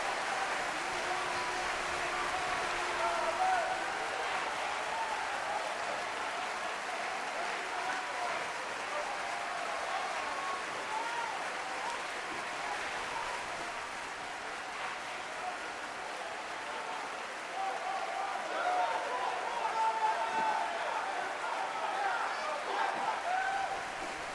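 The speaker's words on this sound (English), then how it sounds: "Apollo Cruz just loving this reaction from this crowd here at ESM." Steady, fairly faint crowd cheering and applause in a wrestling arena in the video game WWE 2K18, a continuous wash of noise with no distinct voices.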